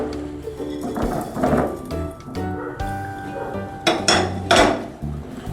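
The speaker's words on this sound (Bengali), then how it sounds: "এবারে আমি আস্তে আস্তে এটা নাড়ার সঙ্গে সঙ্গে গাট্টাগুলো দিয়ে দিচ্ছি।" Gatte dumplings dropped into a pan of Rajasthani gatte ki sabji while it is stirred: clattering knocks of utensil on pan and soft wet squishes, close and moderately loud, in an uneven rhythm with no talk.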